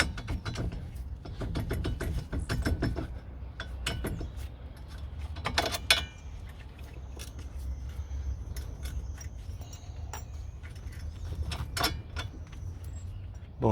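Ratchet wrench clicking in bursts while loosening suspension bolts on a Fiat Palio, with clear ratcheting runs, pauses and metallic knocks close by in a workshop.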